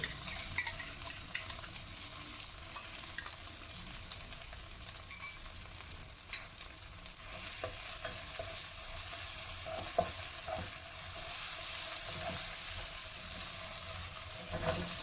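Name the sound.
capsicum with onion and tomato paste sautéing in a pan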